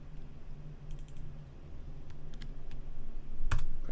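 Keys tap on a computer keyboard during setup of a Lenovo M93p Hackintosh, a few sparse, close clicks spread over a quiet background and ending in one sharper press.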